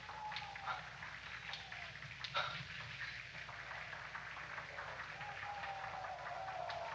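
Applause from a theatre audience during a stage play, a steady wash of many hands clapping that holds at an even level throughout, with faint sounds drifting over the top.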